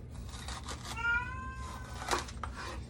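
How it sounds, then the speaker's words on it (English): A cat meows plaintively a couple of times, a drawn-out whining cry followed by a shorter one, fairly close against a quiet room. "That's my cat. He's always crying."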